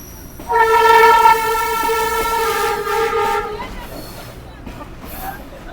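The Sialkot Express passenger train on the Lahore to Sialkot route rolls slowly into Sialkot. A loud, steady horn blast lasts about three seconds, then a low rolling rumble carries on.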